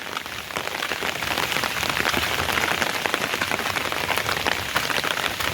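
Steady monsoon rain pours down on a Konkan village, a dense, even patter on surfaces that continues throughout without pause.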